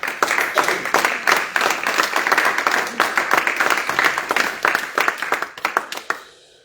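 A church congregation on Réunion Island bursts into sustained applause after an evening teaching service, steady close clapping from many hands that fades out at the end.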